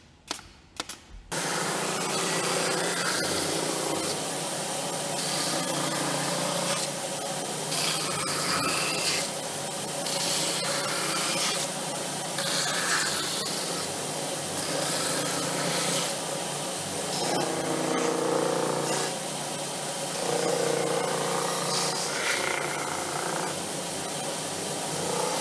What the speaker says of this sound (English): it's time for sanding.